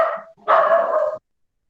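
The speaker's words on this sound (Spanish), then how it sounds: "¿y ese perro" A dog at home barks twice, a short yip followed by a longer, loud bark close by, then silence.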